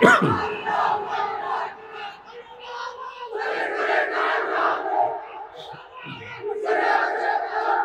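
A large religious gathering shouts back in unison after a preacher's call, a loud sustained crowd chant that swells in waves and stays dense throughout.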